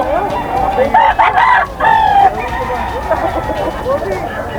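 A Texas gamecock crows loudly and close by, its rough, drawn-out call repeated in bursts at a crowded market, with clucking and chatter of voices underneath.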